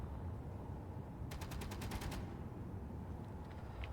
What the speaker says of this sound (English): Who is shooting at me?